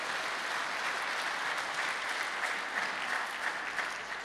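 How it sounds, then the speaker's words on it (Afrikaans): Church congregation applauding warmly, a dense, steady patter of many hands clapping throughout, fairly close and continuous. "Kom ons gee net vir hulle lekker hande klap"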